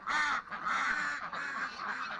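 Several ducks quack in quick, overlapping bursts close by as a dog runs through the flock, the calls coming in three or four loud clusters over a couple of seconds.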